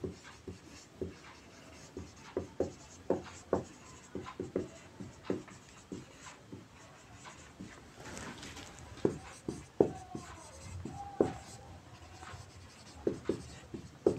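A pen scratches out notes by hand on paper in short, irregular strokes and taps, close and quiet, with brief pauses between words and no talking.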